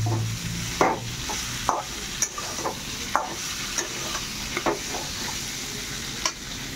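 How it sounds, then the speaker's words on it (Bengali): Paneer, pointed gourd and potato frying with spices in a pan: a continuous close sizzle broken by regular scraping strokes of a spatula stirring the mix, with no talking. "পনির পটল আলু সব দিয়ে লাইছি। এখন একটু মশলাটা দিয়ে দিলাম,"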